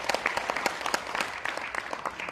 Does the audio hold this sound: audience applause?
yes